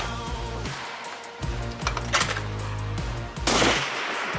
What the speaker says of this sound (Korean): 이어지는 다음 팀 사격